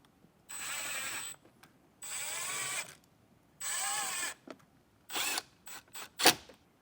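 A power drill drives screws into the dash of a 2024 Jeep Wrangler JL, with three sustained whirring bursts of a second or more each, then a few shorter choppy spurts close by, quiet pauses between.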